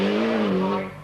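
A rally car on the wet, twisty Chatsworth stage of the 1991 Lombard RAC Rally gives one short, loud engine note that sweeps through a gear and fades.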